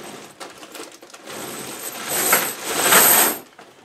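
New tractor chains for a Massey Ferguson GC2300 compact tractor clink and rattle inside a plastic bag, building from light jingles to a louder metallic shaking near the end, with no talking.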